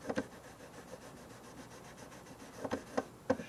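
Light, close rubbing of worn 2000 grit sandpaper over guitar frets, soft scratchy strokes with a few sharper taps near the end, alone without talk.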